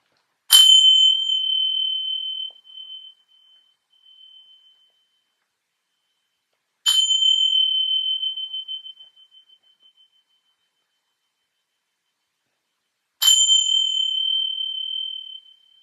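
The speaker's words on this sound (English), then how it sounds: "Letting the bells signify the end of this meditation." Three struck meditation bells close a mindfulness-of-breath session, each a clear ringing chime left to fade slowly over a few seconds, spaced about six seconds apart in otherwise silent surroundings.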